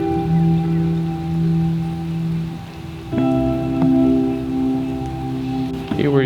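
Steady rain patters on surfaces outdoors, a continuous wash of drops with animal-like tonal calls and some voices mixed in.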